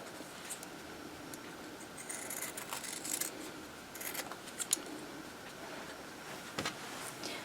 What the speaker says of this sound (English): go ahead and trim up my squares, or trim this excess off the back to reduce bulk